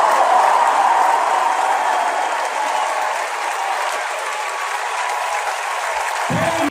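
A large outdoor political rally crowd cheering and clapping for James Talarico in Texas, a loud, continuous roar of many voices and applause replayed from a recording, steady throughout.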